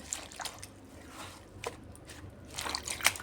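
Sweet pumpkin leaves are washed in a basin of water, with faint, sparse splashes and drips building to a slightly louder slosh near the end.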